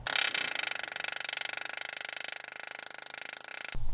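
Copper being tapped into a stainless steel pipe gives a fast, regular run of close metallic knocks and scraping strokes that keeps a steady rhythm and then stops abruptly near the end.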